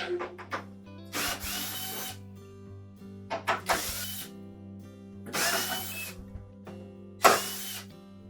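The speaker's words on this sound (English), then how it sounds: "Then there's a series of 1/4" hex head screws through the face of it. So we'll remove all of those." A power driver backs out quarter-inch hex head screws from the front panel of a Whirlpool dryer, running in four separate whirring bursts with short pauses between, close and fairly loud.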